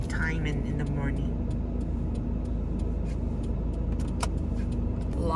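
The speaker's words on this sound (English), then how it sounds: "Lots and lots of bus traffic here." Busy night-time road traffic with many buses near an exit in Pyeongtaek, South Korea, a steady loud rumble of engines and tyres with passing vehicles throughout, heard from inside a moving car.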